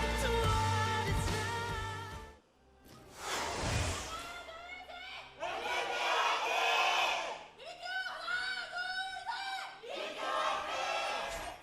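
A loud esports crowd at a 2017 LCK Summer Split match roars and cheers in sustained waves, with shouts and chants rising and falling, under commentators' voices.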